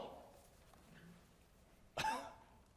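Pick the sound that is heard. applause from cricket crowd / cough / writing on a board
cough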